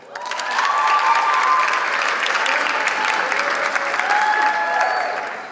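An audience at an elections assembly applauds to welcome a speaker, a dense, steady clapping from a sizeable crowd that swells quickly, holds for several seconds and tapers at the end.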